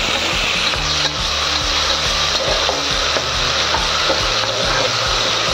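Ginger garlic paste fries in ghee in a pan while being stirred, giving a continuous sizzle with rhythmic scraping and knocking of the spoon against the vessel, close and fairly loud, for ghee rice.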